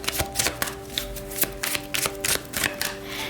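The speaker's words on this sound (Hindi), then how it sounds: "ठीक है, तो चलिए शफल कर लेते हैं हमारे अर्थ साइंस के लिए।" Tarot cards being shuffled by hand, a series of crisp close riffling and slapping bursts repeating in quick irregular rhythm, with little else around them.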